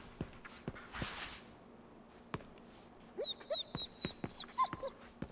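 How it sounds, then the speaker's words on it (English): A dog whimpers in a series of short, high, wavering whines and yips in the second half, heard against quiet room noise after a few faint taps. "Sounds like a dog to me."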